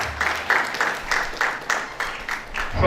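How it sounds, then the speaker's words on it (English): Audience applause for a guest at a school event, a short burst of clapping in rhythmic pulses, moderately loud and near, lasting only a few seconds. "A round of applause to her."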